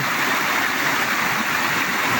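Muddy creek water rushing past steadily at a river crossing, a loud, continuous broadband wash close by with no talk over it.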